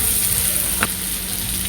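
An egg Manchurian mixture sautéing in a pan, a constant close sizzle with a single brief clank of a utensil partway through.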